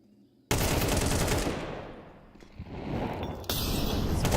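Dense automatic rifle fire, including an AK, rattles through a Counter-Strike match in loud sustained bursts with sharp single cracks, fading briefly in the middle before heavy shooting resumes.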